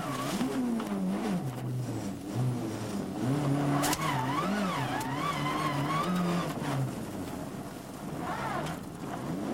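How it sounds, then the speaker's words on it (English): A Mitsubishi Lancer rally car revs hard and swings through a handbrake turn on a snowy Monte Carlo Rally stage in 1995, its engine note rising and falling with skidding, heard loud and near without voices. "Swift handbrake turn to regain the right direction."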